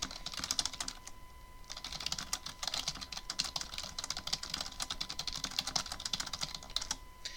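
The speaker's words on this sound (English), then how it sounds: "You generally start typing your contents." Rapid, continuous clicking of keys on a computer keyboard, a close steady stream of keystrokes with brief pauses, over a faint electrical hum.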